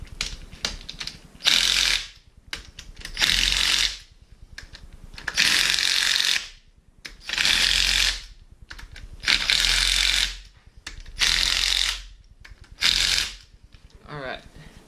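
A ratchet wrench torques down bolts during a Mazda RX8 rotary engine rebuild, with repeated bursts of fast clicking, about seven strokes separated by short pauses, close and loud.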